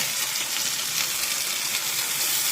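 Fish frying in a pan with yogurt, turmeric and chili, a loud continuous sizzle that holds steady throughout with no talk.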